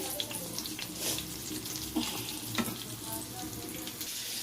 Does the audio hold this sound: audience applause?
no